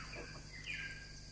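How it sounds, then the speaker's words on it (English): Birds calling in mangroves on Koh Chang in the late afternoon, thin chirps and a rising whistle over a steady bed of insect buzz, faint and distant. "And just the bird song in the late afternoon."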